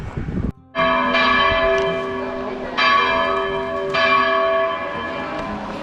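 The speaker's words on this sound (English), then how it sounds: "They know we're in town, and that's the welcoming bells for the Cornells." Church bells ring out in a Spanish town on the Camino between Najera and Leon, sustained resonant tolling with fresh strikes renewing the ringing every second or so, fairly close and with no voices.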